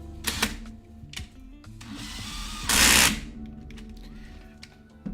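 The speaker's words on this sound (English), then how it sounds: "We want the drill setting." A power drill switched to its drill setting whirs in short bursts, with one longer, louder spin near the end of the clip.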